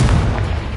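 A single heavy Confringo blast in Hogwarts Legacy, a short loud booming burst that fills the moment and then rumbles out.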